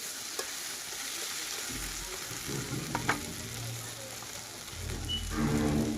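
Tomato bharta fries in a pan while being stirred, a close, continuous sizzle with bursts of scraping and clatter from the spoon, the frying swelling louder toward the end.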